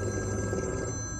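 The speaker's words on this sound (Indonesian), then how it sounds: "Telepon guys, diangkat gak ini?" Incoming call ringing on a phone from a hidden number, a steady electronic ring tone holding through the whole short moment at moderate loudness, with no talk over it.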